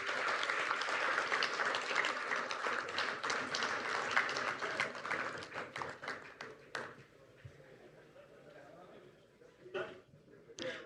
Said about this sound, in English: Dr. I.M. Sethi, please give a big hand of applause.